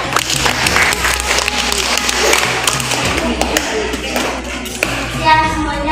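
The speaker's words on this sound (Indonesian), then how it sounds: "Tepuk tangan untuk kelompok keempat." Students in an Indonesian classroom clap for the fourth group, a scattered burst of hand claps with some tapping and shuffling, close by and fairly loud, gradually thinning out.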